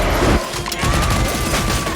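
A pistol shot rings out in a scene from the animated series Arcane, a loud sharp crack with a ringing tail that then fades toward silence.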